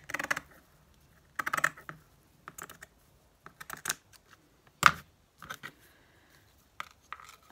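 Scissors snip through scrap paper in a mixed media art session, a series of short, quiet crisp cuts in irregular bursts separated by brief silences.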